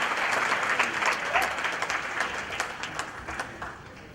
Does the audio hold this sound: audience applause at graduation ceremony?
yes